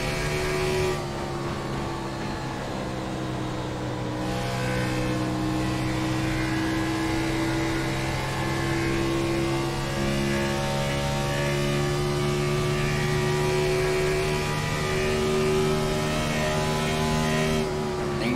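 A race car laps Kansas Speedway, its engine a sustained, loud droning whine that holds a steady pitch with slight shifts as it carries around the track.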